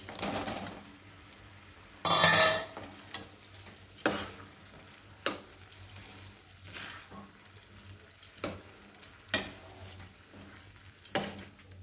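Jujubes (kul) tipped into tomato chutney in a frying pan give a burst of sizzling, then a quieter fry broken by intermittent scraping and clinking of stirring.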